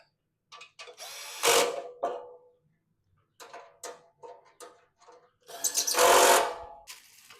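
Threaded screws are driven tight during assembly of a Traeger Woodridge Pro pellet grill, giving bursts of close, loud mechanical ratcheting and whirring separated by short quiet gaps, with two longer, louder runs.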